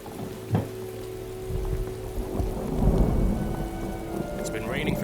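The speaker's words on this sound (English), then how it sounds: "It's been raining for several days now." Steady rain falls with rumbles of thunder rolling underneath, a dense wet hiss building slightly louder toward the end.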